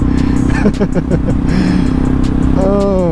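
A Honda XR650L motorcycle engine runs nearby with a steady, loud, throbbing drone, and a voice briefly exclaims over it.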